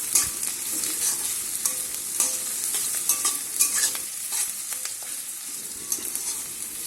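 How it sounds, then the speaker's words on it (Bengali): Chopped onions with garlic frying in hot oil in a wok, a steady bright sizzle with scattered scraping stir strokes, close and continuous with no talking. "এবারে দুটো বড় সাইজের পেঁয়াজ কুচি করে রেখেছিলাম, এটা দিয়ে দিয়েছি। ভালো করে ভেজে নেব।"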